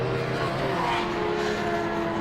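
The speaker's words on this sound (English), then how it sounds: "There's number 4 Ferrari going through" A number 4 Ferrari race car passes during qualifying at Silverstone, its engine a loud sustained droning roar with no speech over it.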